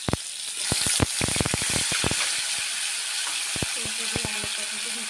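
Mango pieces dropped into hot oil with mustard for a sour mango dish, giving a steady frying sizzle with sharp crackles and pops that cluster early and thin out, close and fairly quiet.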